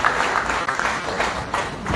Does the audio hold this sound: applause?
yes